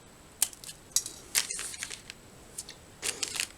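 A dry, unsalted whole wheat Provita cracker snaps apart in a few quick, crisp cracks and crunches, close and fairly quiet, with short pauses between the breaks.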